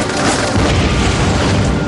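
A movie explosion with a doll blown up, a loud sustained roaring blast filling the whole moment with no voices over it.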